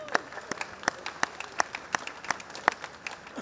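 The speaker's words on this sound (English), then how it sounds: "a round of applause to the Duggan Park committee" A crowd at a minor football final claps in a round of applause, sharp individual hand claps spaced irregularly over a quiet background, fairly distant and moderate in volume.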